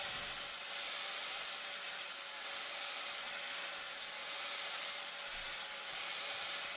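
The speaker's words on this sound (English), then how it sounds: "Cutting the curve was pretty easy, and then I switched to a flap disc." An angle grinder with a flap disc grinds a bevel on a blade freehand, giving a steady, close, high-pitched abrasive whine that runs unbroken and fairly loud throughout, with no speech.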